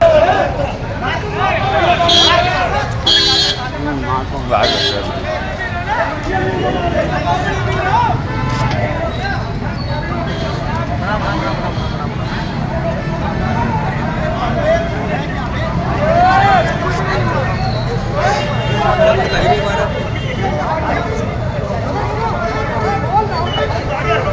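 A crowd mills on a roadside after a hit-and-run as a driver is beaten, a steady murmur of many voices mixed with passing traffic and engine noise, loud and close, with a narrator speaking over it.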